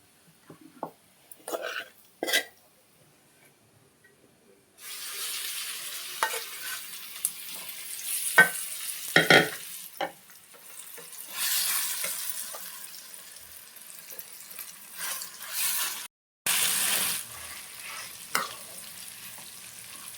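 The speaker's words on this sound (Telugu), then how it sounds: "ఇప్పుడు మంచిగా కలుపుకోవాలి." Gongura leaves stirred into a tempering of dried red chillies and asafoetida in a pan give scraping, sizzling bursts that come and go, with quiet gaps and a brief pause between, no speech.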